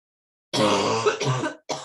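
A few harsh, close coughs in quick succession, with a brief pause before the last burst.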